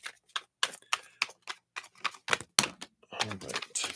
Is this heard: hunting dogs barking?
no